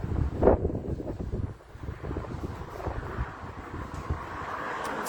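Strong wind blows outside in the dark early morning, buffeting the microphone in rumbling gusts with a sharp burst near the start and a brief lull, then a steady roar, with no talking.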